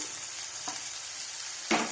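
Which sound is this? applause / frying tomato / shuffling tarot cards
frying tomato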